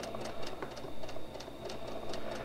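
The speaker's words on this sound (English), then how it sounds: "I'm just gonna finish sewing this one seam" A sewing machine stitches a seam on a back-tabbed curtain, a quiet, close motor hum carrying a fast, even ticking of the needle, with no talking.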